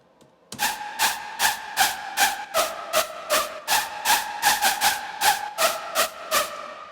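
A main trap-drop screech lead built in Ableton Live's Wavetable synth, shrill and whistle-like, firing as a steady run of loud, rhythmic bursts with a tonal, pitched edge, alone with no talking.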